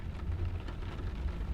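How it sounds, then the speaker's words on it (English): Rain falls on a small lake, a steady dense patter and hiss of drops on the water's surface with a low rumble beneath, continuous and fairly close. "You pass a small lake, its surface rippling gently under the touch of the rain."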